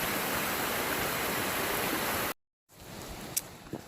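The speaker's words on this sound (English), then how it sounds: "Bit of a waterfall over there." Steady rushing roar of a waterfall beside a creek hiking trail between Tarra Bulga and Macks Creek, Australia, fills the first two seconds, then cuts to a quieter outdoor scene with faint splashes.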